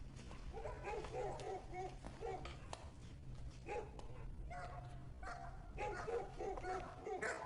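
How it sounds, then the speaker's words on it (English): A pack of dogs barks and yelps in a medieval town setting, overlapping and fairly distant, with horse sounds and crowd noise around them; voices talk throughout. "Sir Guy, Oh, all these dogs for one man?"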